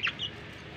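A chicken gives two quick, faint clucks, then quiet background hiss.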